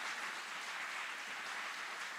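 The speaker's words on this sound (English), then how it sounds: "Please join us in giving a round of applause to these outstanding drill sergeants and instructors." An audience claps for graduating Army drill sergeants and instructors at a graduation ceremony, a dense, even wash of applause throughout, fairly distant.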